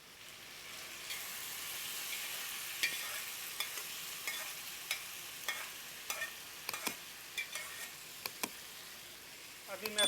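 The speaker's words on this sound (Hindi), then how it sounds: "अभी मैं अच्छा से मिक्स करेंगे।" Dal is stirred into a hot tadka in a pan: a continuous soft sizzle with scattered scraping knocks of the spoon against the pan, fairly quiet and close, with no talk.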